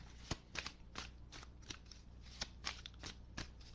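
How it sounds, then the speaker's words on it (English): A deck of tarot cards is shuffled repeatedly in quick riffles and riffling bursts, close and crisp, with no talking. "I'll shuffle the deck so that we get a totally random one"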